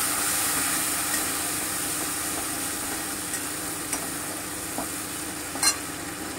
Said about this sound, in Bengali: একটু নেড়ে নিচ্ছি।